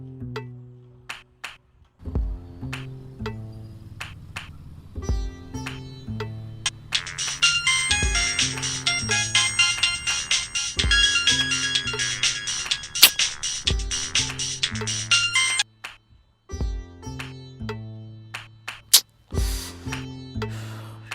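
A phone ringtone plays unanswered through an ongoing call, a loud repeating melodic ring with steady pulses that swells into a denser, brighter stretch midway before falling back to the simple repeated tones.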